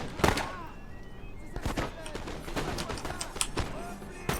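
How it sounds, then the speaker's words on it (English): Musket volleys crack across an open-field battle in Napoleon: Total War, a sharp burst of gunfire at the start followed by scattered popping shots and dull thuds, with someone talking over the battle. "Great shots there on that first volley."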